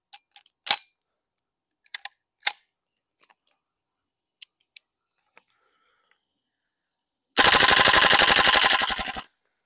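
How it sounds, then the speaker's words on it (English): Full-auto M4 carbine airsoft rifle fires one long rapid burst of evenly spaced cracking shots lasting about two seconds, preceded by scattered light clicks and handling taps in an otherwise quiet space. "we're going to shoot this bad boy on full auto"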